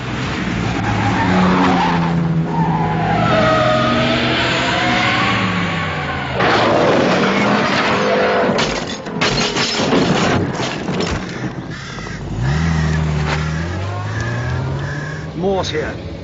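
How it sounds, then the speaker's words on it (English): A sports car skids with squealing tires and crashes into a tree near a country house, harsh sliding screeches over a roaring engine, with voices talking through much of the scene. "Some fool in a sports car just smashed into a tree."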